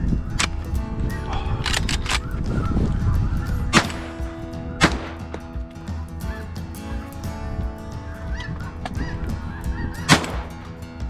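Snow geese honk in a dense, layered chorus during a hot spring snow goose hunt, with sharp gunshot cracks punctuating the flock noise at several points and a low rumble of wind underneath.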